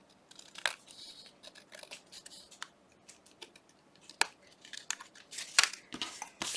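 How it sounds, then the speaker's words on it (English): Scissors trim Tim Holtz end paper with short, crisp snips spread unevenly over a quiet background. Some sharper cuts and rustles of paper come near the end. "I need to trim this a little here."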